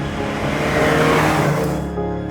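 A 1975 Alfa Romeo 2000 GTV drives past with a loud, steady engine roar that swells and then eases off as it moves away.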